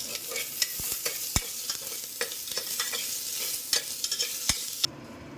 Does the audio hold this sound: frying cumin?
yes